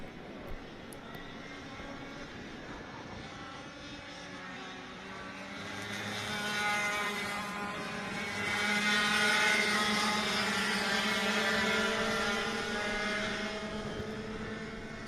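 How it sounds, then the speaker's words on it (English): Air-cooled 100cc single-speed racing karts in a Masters class race at the Sonoma Raceway kart track, a steady buzzing drone of several engines that swells louder around the middle as the pack passes nearer, then holds. "this is the 100cc Masters class on track. Air-cooled 100cc engines, single speed."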